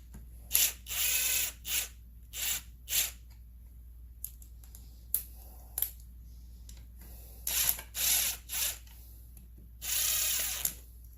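A socket ratchet tightens a bolt on a McCulloch chainsaw in quick clicking bursts, with short strokes grouped in irregular clusters and brief pauses between them, close and fairly quiet.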